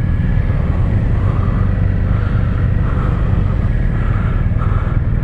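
A 2021 BMW R1250 RT motorcycle sets off, its engine droning steadily and fairly loud from start to finish with a smooth, continuous tone and no talk.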